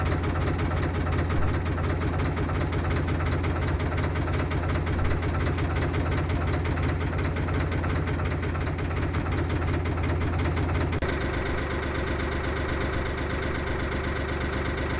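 A boat engine chugs steadily at idle close by, a rhythmic mechanical thrum that drops to a lower, throttled-back pitch near the end.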